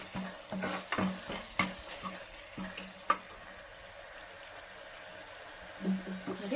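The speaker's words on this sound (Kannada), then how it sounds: "ಇವಾಗ ಇದೊಂದು 2 ನಿಮಿಷ ಬಾಡಿಸ್ಕೊಂಡ್ಬಿಡೋಣ" Chana masala spice mixture sautéing in a pan: quiet, steady sizzle with scattered stirring clinks and scrapes, a few louder spoon knocks against the pan.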